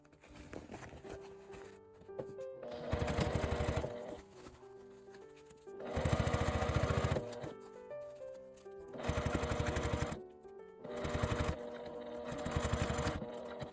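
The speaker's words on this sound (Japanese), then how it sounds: "こちらも表側から端ミシンをかけます。" A sewing machine whirs in four short bursts of fast, even edge topstitching from the right side of a zippered fabric pouch, with brief quiet gaps and light handling between runs.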